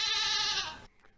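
A single goat bleats in one loud, wavering cry just under a second long, close and clear, then cuts off sharply, offered as an alternative Netflix intro sound.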